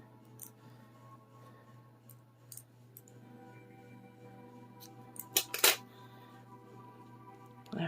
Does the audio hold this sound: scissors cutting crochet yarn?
yes